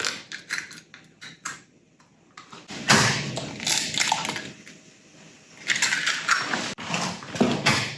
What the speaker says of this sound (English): When I first got this food processor, I thought it was going to be pretty useless because it was too small.